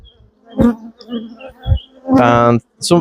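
Honey bees buzzing around an open, aggressive hive during an inspection, with close droning passes coming and going in bursts while a person speaks briefly.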